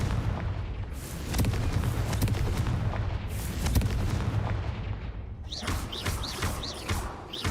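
Confringo fire spell blasts in Hogwarts Legacy on PS5, a run of booming, thudding explosions with crackling tails, loud and continuous over dense game effects, then sharper whooshing spell sounds near the end.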